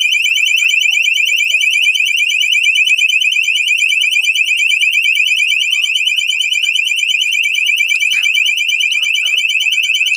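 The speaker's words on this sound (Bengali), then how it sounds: "এই যে অ্যালার্ম বাজা শুরু হয়ে গেছে" A cattle anti-theft alarm rings loud and close in one unbroken, rapidly warbling electronic tone that holds steady for the whole stretch, with no voices over it.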